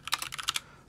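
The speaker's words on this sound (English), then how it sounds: "My keyboard is the Ducky 1, the 104 key version." Quick burst of keystrokes on a Ducky One 104-key computer keyboard, about eight crisp clicks in under a second, close and clear, then stopping.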